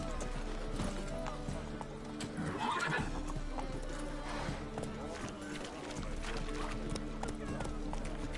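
A horse in The Witcher 3 on PS5 whinnies over running hoofbeats, set against constant game music and background ambience.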